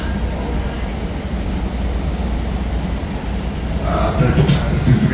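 A Chicago L Red Line train arrives on the inside track at Belmont station, a loud steady rumble with rising wheel and motor noise near the end.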